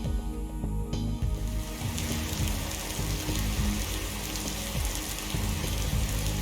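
Heavy rain falls steadily on a surface during a train-racing video game scene, a dense continuous patter with no voices over it.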